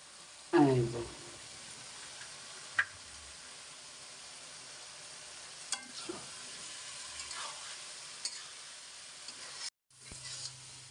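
Bottle gourd and shrimp stir-fry in a pan with a low, hissing sizzle and scattered spatula clinks, faint and close, briefly cut to silence near the end before the sizzle resumes.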